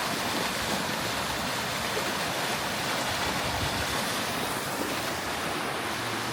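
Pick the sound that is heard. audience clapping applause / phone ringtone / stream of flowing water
stream of flowing water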